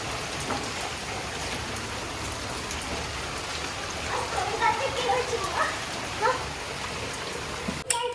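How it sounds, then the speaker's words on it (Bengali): Continuous rain hisses and patters steadily, with faint voices murmuring midway and a brief clatter near the end. "কন্টিনিউ বৃষ্টি"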